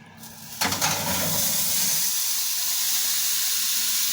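Steady hiss of steam rising from a hot hotpot as the dish is handled near the oven, a brief clatter at the start, then a continuous close, fairly loud rush with no talking.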